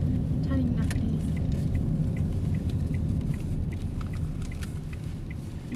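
Car engine rumble and road noise continue steadily from inside a car during a driving lesson as it turns left, loud and even throughout, with a few faint clicks above.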